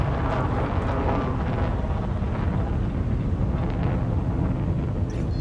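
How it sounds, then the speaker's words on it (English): Deep, continuous rumbling roar of spaceship engines boosting in the video game Elite Dangerous, heavy and steady throughout, with a faint high whine near the end. "Boost engines. Boosting thrusters."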